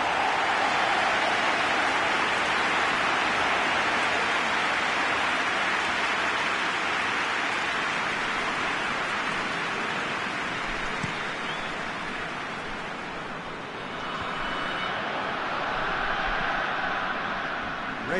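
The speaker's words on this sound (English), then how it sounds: "Rain starting to fall here." Steady rain pours across a stadium in a PES football match, a dense unbroken hiss lasting throughout that dips slightly near the end, with no talk over it.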